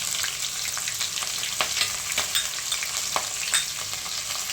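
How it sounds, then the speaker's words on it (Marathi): Mustard seeds, cumin, fennel, cinnamon, cloves and pepper sizzle in hot oil for a tempering, a steady close crackling fry with small pops and occasional stirring. "मोहरी चांगली तडकली आता तो अपन त्याच्यामध्ये जिरे बडीशोप दालचिनी लवंग मिरे हे टाकूयात"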